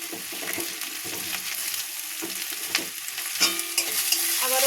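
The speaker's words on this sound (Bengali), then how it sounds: "আবারও ভালোভাবে মিক্স করে এরকম ভাজতে থাকবো" Chopped potatoes and garlic being stirred and fried in a pan, a steady broadband sizzle with scraping stirs and a few louder clatters of the utensil, close and continuous with no talking.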